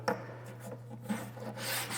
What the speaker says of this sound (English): I've taken a piece of sandpaper and just stuck it to a piece of plywood.